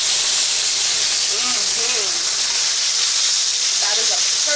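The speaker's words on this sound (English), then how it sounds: "we're going to flip the boneless steak" A boneless ribeye steak sears in a hot pan, giving a loud, steady broadband sizzle and hiss that runs throughout, with faint voices briefly audible underneath.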